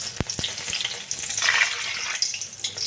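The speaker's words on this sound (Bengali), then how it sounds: "ভাজি আমি একদম মিডিয়াম ফ্লেমে একদম মিডিয়াম টু ফ্লেমে আর কি ভাজছি কিন্তু তেলটা প্রচুর গরম হয়েছে দেখো" Yardlong bean fritters frying in very hot oil over a medium flame give a steady, close crackling sizzle, with a couple of sharper pops near the start and no talking.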